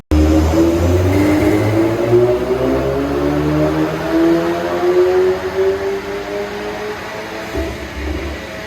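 Golf GTI with an EA888 Gen 3 engine and a full stainless steel exhaust, heard alone as a loud, steady drone with rising harmonic tones and a deep rumble that fades slightly near the end.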